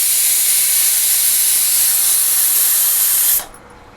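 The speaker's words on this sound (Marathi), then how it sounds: "आपलं पाणी उकळलेलं आहे" Water boiling hard for making bhakri dough gives off a loud, steady steam hiss that holds evenly for about three and a half seconds, then cuts off abruptly into near quiet.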